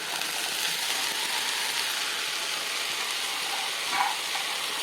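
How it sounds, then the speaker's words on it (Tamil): Chopped vegetables sauté with tomato and onion in a pan for chilli chapathi, giving a steady, close sizzle throughout with a brief louder hiss of stirring near the end. "தக்காளி வெங்காயத்தோடு சேர்ந்து இந்த காய்கறியும் வதங்கி வரும்"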